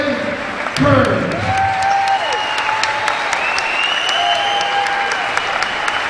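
Sustained applause and cheering from a school gym crowd of adults and students giving a standing ovation to a retiring basketball coach, dense and continuous with a voice announcing over it.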